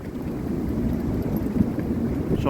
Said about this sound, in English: Some absolutely brutal gusts out there.